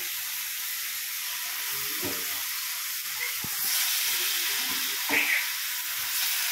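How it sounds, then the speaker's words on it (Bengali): Chicken pieces added to a cooked-down spice masala with oil separating, giving a steady, fairly loud broadband sizzle and hiss throughout, with a few soft stirring knocks and bumps. "এবার এর মধ্যেই আমরা চিকেনের পিসগুলোকে দিয়ে দেবো।"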